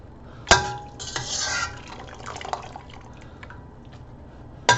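Cooked escarole lifted from a pot with a scoop, a sharp clank at the start and end framing soft splashes and drips of liquid falling back into the pot, with light utensil clatter.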